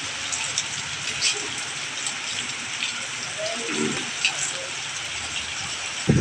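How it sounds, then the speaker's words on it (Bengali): Heavy rain driven by wind during Cyclone Remal on the Bangladesh coast, a steady dense hiss of downpour with gusty rushes, and a voice talking intermittently over it. "তাণ্ডব গতিতে চলছে। ঝড় বৃষ্টি বাতাস"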